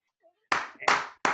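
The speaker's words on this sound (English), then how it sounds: "let's give a big round of applause to Rajiv." Claps from a small online alumni session audience at an IIT Delhi emerging-technology talk, a few broad bursts in quick succession, close and fairly loud after a faint tone.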